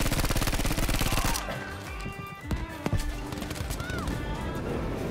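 A rapid burst of automatic gunfire in the video game Battlefield V on Wake Island, followed by scattered single shots and game effects amid quieter battlefield noise.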